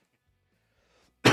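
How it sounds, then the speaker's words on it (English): A single abrupt cough bursts out at the very end after near silence, close and fairly loud. "I'm battling through a little bit of a cough right now."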